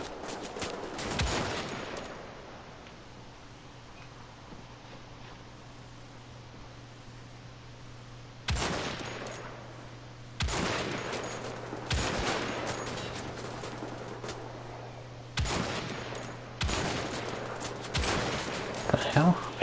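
Gunfire from the Wolfenstein The Old Blood video game during a cave boss battle, with several loud separate bursts of shots against quiet low background hum.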